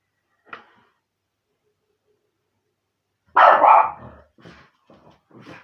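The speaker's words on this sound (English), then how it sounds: "Gets excited when he hears other dogs barking." An excited dog lets out a short yip, then after a pause a loud, close bark followed by a few softer barks and whines.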